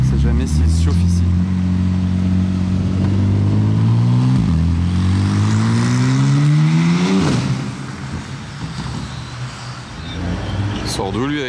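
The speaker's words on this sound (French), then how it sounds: "C'est pas normal le bruit qu'il fait avec sa Carrera lui." A Porsche Carrera passes nearby on a Paris street, its engine rising in pitch through several gear changes before fading away, with a person speaking over the loud roar.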